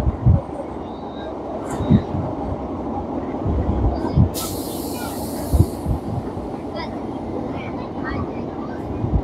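A local train runs from Sealdah toward Bolpur, its steady rolling rumble carrying periodic rhythmic wheel clacks over rail joints, with a brief hiss partway through.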